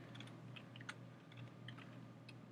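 Soft, irregular keyboard typing clicks during CAD modelling of an enclosure in Fusion 360, scattered light taps over a steady low hum, fairly quiet and close.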